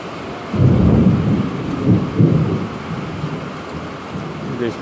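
Deep rolling thunder booms over steady heavy rain in a southern yard, with two or three swelling rumbles rising and fading across the clip, loud and close, no talking.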